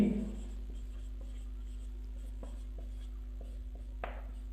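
Writing on a board during an English lesson, a handful of sharp, faint taps and strokes spaced about half a second apart over a steady low hum, ending in a slightly louder scrape.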